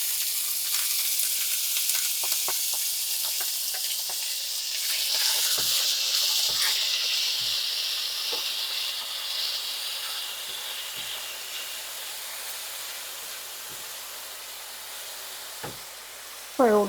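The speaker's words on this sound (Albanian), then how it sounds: "Filloj me skuqjen e qepës." Chopped onions fry in olive oil in a pan, a steady close hiss and sizzle with occasional soft clicks of stirring, with no voices and a sharp knock right at the end.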